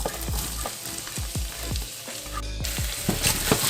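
Onion frying in a pan for Senegalese thieb poulet, with a loud, continuous sizzle close by and repeated scraping stirs, no talking.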